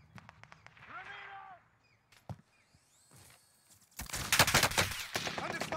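Rapid, loud bursts of gunfire in Call of Duty: Warzone, with an MP40 submachine gun nearby, erupting in dense volleys near the end after a quieter stretch with a voice talking.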